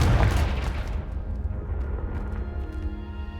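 A Confringo blasting spell explodes in Hogwarts Legacy: a heavy, close boom at the start that decays into a long rumbling tail under a faint steady ambient tone.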